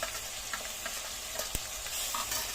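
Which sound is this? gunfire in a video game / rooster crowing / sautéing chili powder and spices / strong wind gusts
sautéing chili powder and spices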